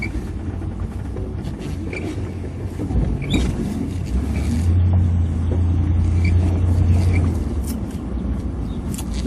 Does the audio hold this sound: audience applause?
no